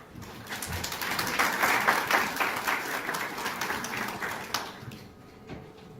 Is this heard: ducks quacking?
no